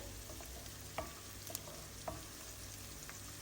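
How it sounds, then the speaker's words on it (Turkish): Tomato paste sizzles in a pan as it is sautéed, a faint, steady frying hiss broken by a few soft clicks of stirring. "ekşiliği gidinceye kadar 1 dakika kavuracağım"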